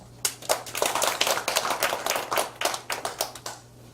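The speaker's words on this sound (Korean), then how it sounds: "박수 한번 해주세요" A church congregation claps in a burst of applause, a close flurry of uneven hand claps lasting a few seconds with some rhythmic, overlapping slaps, and no voices on top.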